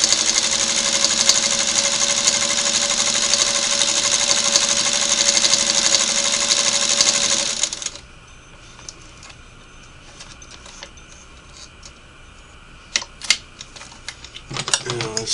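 A Singer Model 301A sewing machine stitches fine at about 20 stitches per inch, a loud, rapid, even mechanical whir for roughly half the time before it stops, leaving quiet handling noises and a few taps.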